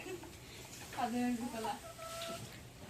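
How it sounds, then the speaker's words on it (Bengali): A chicken clucks a few times at close range in a rural home, sounding over a quiet background with faint voices nearby. "ওই মুরগি খায়"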